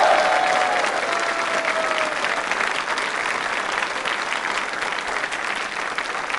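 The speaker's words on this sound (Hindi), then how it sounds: "तालियां आपके सम्मान में जोरों से बजाइए।" A studio audience claps loudly for the chief guest, an Indian Railway Service officer, at a quiz show, a full, sustained burst of applause with a brief whistle-like tone near the start and no speech.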